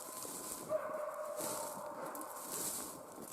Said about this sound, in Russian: И тулан лает.